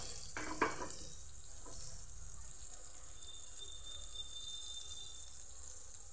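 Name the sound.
butter melting and sizzling on a tawa griddle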